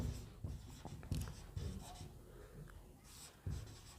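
Pen writing out a trigonometry math solution by hand on paper, close and quiet, a series of irregular scratchy strokes and taps.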